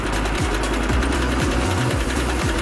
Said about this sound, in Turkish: Bu bir mikser.